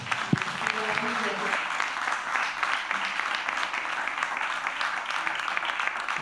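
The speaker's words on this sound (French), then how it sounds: "J'entends aussi des applaudissements." Audience applause at a film festival interactive casting event, a dense, steady wash of clapping that holds evenly throughout with no talk over it.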